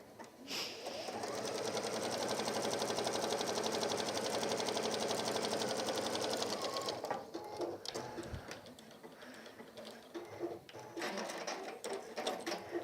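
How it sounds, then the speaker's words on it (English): Sewing machine stitching a gardener's kneeling cushion in one long steady whirring run of about six seconds, then stopping, followed by quieter clicks, taps and handling of fabric nearby. "Just sewing them down in place as we go."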